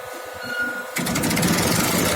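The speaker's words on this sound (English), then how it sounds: "Now the motor starts rotating." The motor of a 12PSB diesel fuel injection pump test bench starts up about a second in, a sudden close-up mechanical whir that keeps running steadily without talk.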